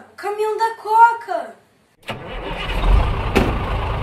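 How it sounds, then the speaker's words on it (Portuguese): A Coca-Cola truck engine cranks and starts after a short stretch of excited talk, then runs with a loud, rough rumble and one sharp click. "Caminhão da Coca!"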